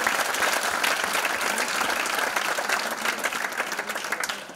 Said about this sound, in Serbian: Da jednim aplauzom pozdravimo i Milicu Jankov za drugo mesto na okružnom takmičenju srpskog jezika i jezičke kulture.